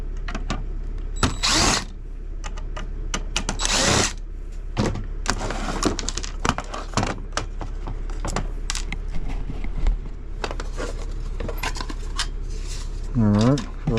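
Small screws being removed from a 2014 Porsche Macan key fob, with scattered light clicks, ticks and tiny metallic taps close up, and a short whirring burst near the end.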